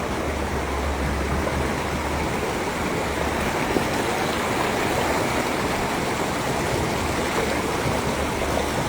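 Floodwater rushes through a flooded street in Haldwani after heavy destruction. It makes a steady, dense roar of flowing water that stays loud and unbroken throughout.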